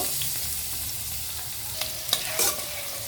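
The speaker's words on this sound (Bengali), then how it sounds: "রসুন কুচি ছেড়ে দিব।" Chopped garlic sizzles steadily in a pan with butter where beef was just fried, a close, continuous frying hiss with a few brief stirring clicks near the end.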